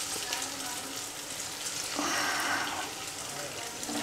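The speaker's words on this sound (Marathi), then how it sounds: "ह्या वड्या कट केलेल्या आहेत कोथिंबीर वड्या, तर ह्याच्यामध्ये आपण तळायला टाकूया." Kothimbir vadi, cut coriander fritters, drop into hot oil and fry with a soft, steady sizzle that swells briefly midway, fairly quiet and without talk.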